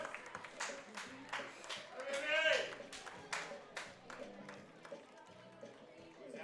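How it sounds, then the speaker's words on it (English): Baseball fans at a Weyburn Beavers vs Brooks Bombers game applaud pitcher Mahoney after his first start of the season: scattered claps and crowd noise, moderately distant, under a steady murmur of voices. "the fans give him a round of applause for his efforts tonight"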